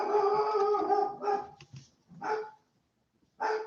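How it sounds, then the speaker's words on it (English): A dog barks in a run of loud, close barks and yelps, with short pauses and a brief silence before a final bark. "I'm gonna go stop my dog. He can't be barking like this."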